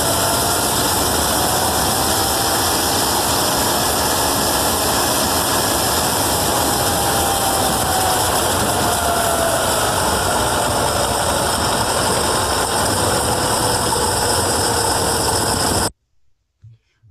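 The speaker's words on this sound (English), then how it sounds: "hear it going through the transition phase from the idle to the off idle back to the idle" A small engine runs continuously with a steady droning hum, its pitch rising slightly as it moves off idle and then easing back down toward idle, loud and close before stopping abruptly at the end.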